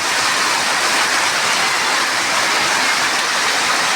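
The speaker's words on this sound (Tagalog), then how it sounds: "Grabe, lakas ng ulan, mga idol." Heavy rain driven by strong wind pounds on a house roof in a steady, dense hiss that stays loud and unbroken from start to finish, with no voices.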